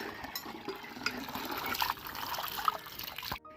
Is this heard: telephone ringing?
no